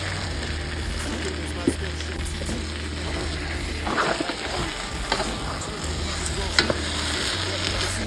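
Beef tips sizzling in a pan of caramelized onions for a gravy, a steady frying hiss with scraping stirs and clinks throughout, with a voice talking now and then.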